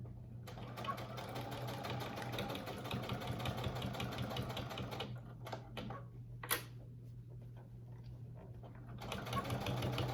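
A domestic sewing machine stitches a wallet with a steady, close mechanical whir and rapid needle clatter, pausing briefly before running again, with a faint bark-like sound in the pause.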